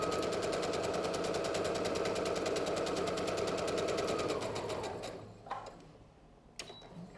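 A sewing machine stitches a straight, shallow seam across a pocket face mask in a fast, even rattling run for several seconds, then stops, followed by a few small handling clicks.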